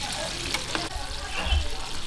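Milkfish (bangus) fries in a pan, a steady crackling sizzle with a few small pops and stirring scrapes throughout, close and moderately loud, with faint talk in the background.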